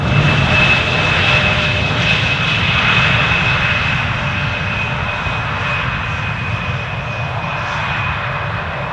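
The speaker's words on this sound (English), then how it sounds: "That is a lovely little aircraft." A small aircraft's engine at Amsterdam Schiphol Airport gives a loud, steady droning roar that fades slightly over nine seconds. No one speaks.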